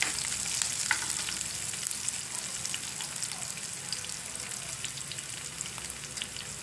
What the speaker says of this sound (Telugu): పచ్చిమిర్చి కొంచెం వేపాలి, ఎందుకంటే కారం ఉంటుంది కదా